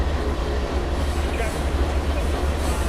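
A CSX 7006 locomotive in Trainz Railroad Simulator 2019 rolls along with a steady, loud, low engine rumble and a faint rail hum that runs unbroken throughout.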